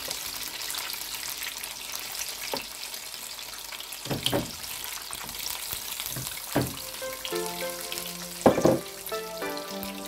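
Sesame-coated lamb chops fry in a pan over medium heat, a faint, steady sizzle with a few brief clinks and scrapes, quiet and without talk.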